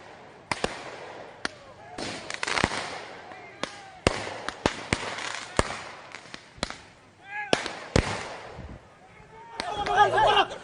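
Sharp firework bangs crack out repeatedly at irregular intervals, some close and loud, amid crowd noise and shouting voices during a street clash between two mobs throwing stones and fireworks.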